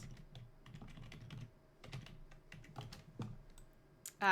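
Soft typing on a computer keyboard during a live coding session, irregular clusters of light key clicks with brief pauses, close and fairly quiet, with no talking.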